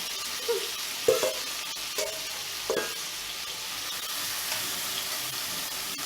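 Seasoning for Jamaican fricassee chicken sautéing in a hot pan with thyme on top, a steady soft sizzle broken by a few louder stirring clatters and sharp pops early on.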